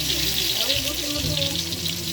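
Garlic sizzles in hot oil in a pan for spaghetti sauce, a steady close crackle and hiss throughout.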